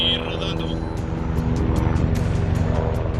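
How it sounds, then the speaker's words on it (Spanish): A helicopter descends toward the rim of an active volcano's crater, its engine and rotor a loud, steady roar close by with rhythmic chopping pulses, while a voice talks over it. "Craig descendió el helicóptero mientras se aproximaban al borde del cráter"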